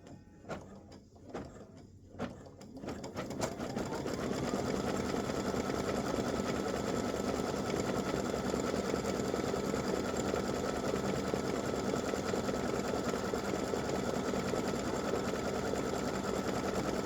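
An embroidery machine stitches an appliqué dreidel design on fraying fabric, opening with a few sharp clicks before settling into a steady, fast, close mechanical whirr that runs unbroken with no talking.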